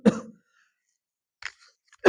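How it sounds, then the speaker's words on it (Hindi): Two or three sharp coughs from a nearby person, separated by short silent pauses, with a final cough cut off at the end. "खांसी पता नहीं कहां से पकड़ लिया है"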